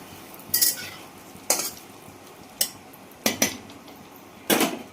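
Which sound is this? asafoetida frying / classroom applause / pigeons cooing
asafoetida frying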